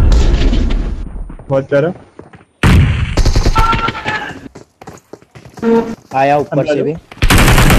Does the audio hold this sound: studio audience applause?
no